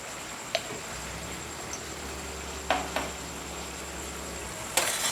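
Chicken with chilli powder and coriander powder is stirred in a pan, giving a few soft scraping clicks from the spoon over a low, quiet sizzle.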